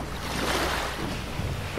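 Washing surf at a beach rolls in as a broad, steady hiss with wind buffeting the microphone, fairly loud and continuous with no voices.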